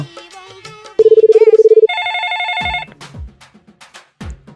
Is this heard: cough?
no